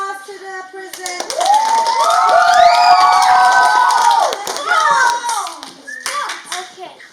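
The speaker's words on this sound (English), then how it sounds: "Can we give a round of applause to the presenter?" Applause and cheering from a school audience for a student presenter, starting after a moment and swelling into loud clapping mixed with children's shouts and excited voices, then tapering off with scattered claps.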